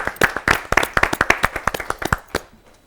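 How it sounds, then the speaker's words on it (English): A small group of debate candidates claps for themselves, with quick overlapping hand claps close by that thin out and stop near the end. "Please give yourselves a round of applause."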